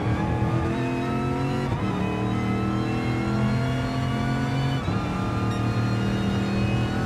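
Race car in RWB racing at Laguna Seca under full throttle, a loud, steady engine drone with rising harmonic pitch, brief gear-change dips near two and five seconds, no talk over it.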